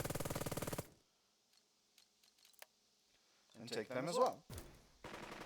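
Machine gun fire in the tactical wargame Burden of Command, a dense rapid burst opening loud and alone, then a quiet stretch with faint clicks, someone talking, and another loud burst at the end.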